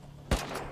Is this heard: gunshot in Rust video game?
yes